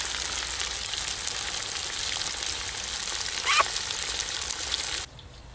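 Meat and bones sizzle in a kazan of hot oil for plov, giving a dense, steady crackle up close with small pops and one brighter spatter before the sound suddenly drops away.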